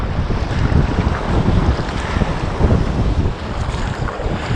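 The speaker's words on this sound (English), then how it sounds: "We're going to get trashed on the way in, I reckon, in these waves" Ocean waves and surf churn around a kayak off Porthcurno, Cornwall, a continuous loud rush of water mixed with heavy wind buffeting the microphone.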